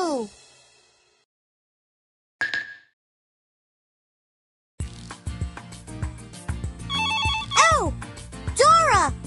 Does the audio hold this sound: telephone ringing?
yes